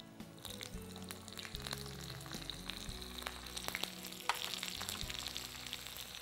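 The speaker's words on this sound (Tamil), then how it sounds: "எண்ணெய் சூடானவுடனே கொஞ்சம் கடுகு, இங்கே கொஞ்சம் உளுத்தம் பருப்பு, கொஞ்சம் காரத்துக்கு பச்சை மிளகாய்." Mustard seeds, urad dal and green chilies crackling and sizzling in hot oil, a close continuous fry with sharp pops and occasional stirring.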